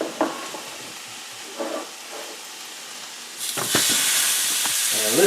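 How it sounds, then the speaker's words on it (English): Burgers hit a hot griddle in a home kitchen, and a loud broadband sizzle swells up after some quieter clinks and faint noises, then holds steady to the end. "And listen to that sizzle."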